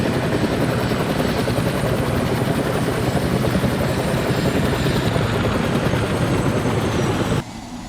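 A Chinook CH-47F helicopter in ARMA 3 roars loud and close with a constant rotor thump and engine drone, cutting abruptly quieter near the end.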